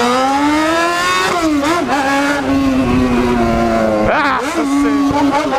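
A loud motorcycle engine held at high revs near a club entrance, a steady strained whine that dips and climbs twice as the throttle is blipped, with voices talking underneath.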